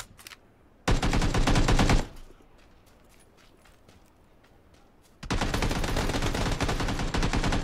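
AKM rifle fire in a video game: two loud rapid bursts of automatic gunfire, about a second long and then continuous to the end, separated by a quieter stretch of background ambience.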